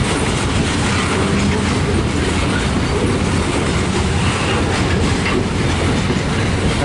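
Train 421 rolling past on the rails, a loud, steady rumble with rhythmic clickety-clack of wheels over joints and faint wheel squeal, close by and continuous.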